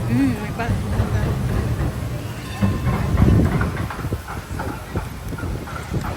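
A train rolls along a city street in Melbourne with a loud, continuous rumble and rattle, and a voice talks over it.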